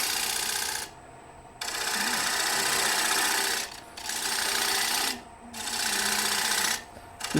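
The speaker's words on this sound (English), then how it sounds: "I'm just pulling the bowl gouge back towards the foot." A bowl gouge pulls back toward the foot of a wooden bowl spinning on a lathe, giving a steady, fairly quiet hiss of cutting in three sustained passes separated by brief quieter pauses, with the motor hum underneath.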